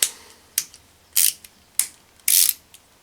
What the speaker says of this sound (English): Nice kind of high ratchet count ratchet